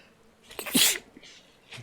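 A single sharp sneeze bursts out close by, a quick breathy intake and then an explosive hiss, followed by faint breathing.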